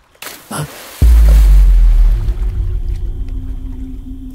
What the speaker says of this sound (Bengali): কেউ একটা নদীতে ঝাঁপ দিল।